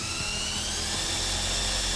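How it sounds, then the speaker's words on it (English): A steady high-pitched power drill whines continuously at close range, pre-drilling holes in a Cummins truck's frame rail, unbroken throughout, with no voices. "we want to pre-drill those holes"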